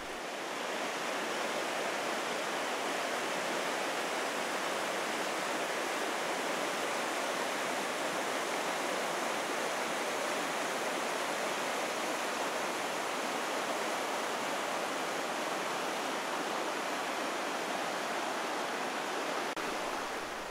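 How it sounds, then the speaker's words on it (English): The Rio Aragon, a big river draining the high Pyrenees and running low in July, rushes with a steady broadband hiss of flowing water, constant and fairly faint, with no other sounds standing out. "The Rio Aragon is a big river which drains the high Pyrenees"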